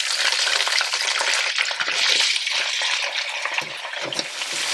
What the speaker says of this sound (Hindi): तो तेल अभी भी गर्म है, इसमें आप डालेंगे गोभी।